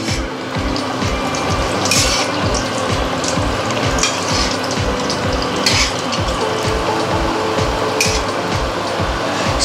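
Rice-flour pitha fry slowly on a low flame in oil, giving a steady bubbling sizzle with a rapid regular crackle and occasional clinks from a utensil.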